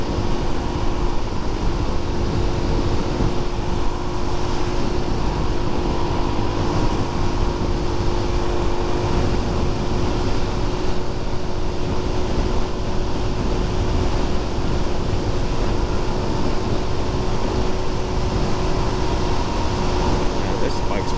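Steady engine drone from a 2022 Suzuki DRZ400SM motorcycle ridden at easy, slow speeds on country roads, with continuous wind and road roar throughout, constant and fairly loud, and a faint voice talking underneath.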